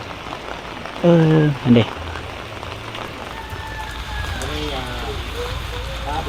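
Steady rain patters continuously over outdoor noise at an evening market in Ta Oy, Salavan, Laos, with a brief spoken phrase and a passing vehicle whine near the start.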